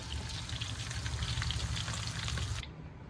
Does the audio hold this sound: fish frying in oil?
yes